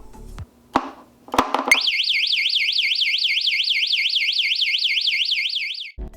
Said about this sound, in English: A very loud piercing sound that will surely attract attention.